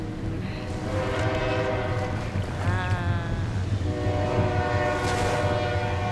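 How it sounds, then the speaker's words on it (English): A train passes nearby in mountain country, its horn sounding in long sustained blasts over the continuous rumble of the rail cars, loud and without talk. "There goes the train."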